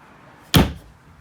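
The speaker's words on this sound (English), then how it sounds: "The bathroom does have a solid door to close that off from the living area." A solid bathroom door in a 2021 Grand Design Imagine 2250RK travel trailer closes with a single sharp, close thud that fades quickly.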